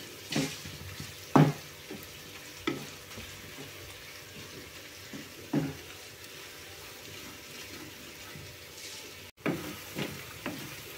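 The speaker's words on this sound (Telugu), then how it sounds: "అల్లం వెల్లుల్లి పేస్ట్ పచ్చివాసన పోయేదాకా శుభ్రంగా వేపుకోవాలండి." Ginger garlic paste frying in a pan for an Andhra-style drumstick curry, a soft steady sizzle with scattered scraping stirs and light clatter, close and quiet, no talking.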